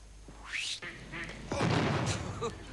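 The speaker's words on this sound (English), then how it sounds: "This is a duck phone." A duck-shaped novelty telephone quacks in a few short electronic bursts, with a louder, busier stretch near the end. It sounds close.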